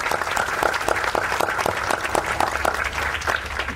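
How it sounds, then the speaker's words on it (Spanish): A municipal council session in Miraflores applauds a councilwoman on her birthday, with brisk, steady clapping from a modest group throughout. "démosle un fuerte aplauso"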